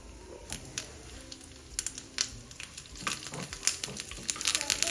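Chillies fry in a pan in an Indian home kitchen, giving off an uneven, close sizzle with scattered sharp pops and crackles that grow busier toward the end.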